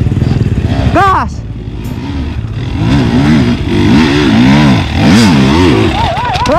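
Trail motorcycles at an off-road trabas practice ride rev hard while climbing a steep cliff, engines surging and falling loud and close, with people shouting and talking over them.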